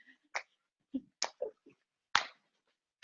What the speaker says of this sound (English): So it's a jumping jack, but you clap.